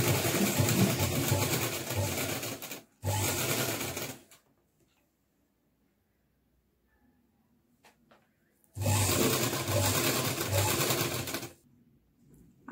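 Sewing machine stitching a 1.5-inch fabric strip for a party-wear frock, two loud running bursts of steady stitching separated by a quiet pause.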